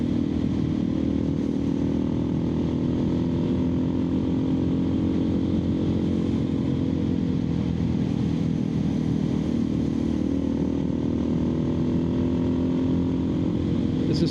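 A Suzuki DR650 motorcycle on Shinko 705 tires rides along with a steady, close single-cylinder engine drone and rumbling road noise throughout, holding an even pace.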